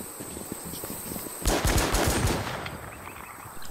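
Burst of gunfire in the online survival shooter WarZ, several rapid shots erupting at once over a low ambient game background, loud and close, then fading back to quieter game ambience.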